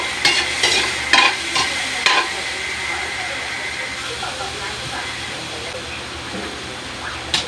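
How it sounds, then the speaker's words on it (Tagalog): Mussels are stirred in a hot cooking pan: a cluster of sharp clattering stirs at the start gives way to an even sizzle, with a few more light knocks near the end. "Babalasan na natin itong tahong."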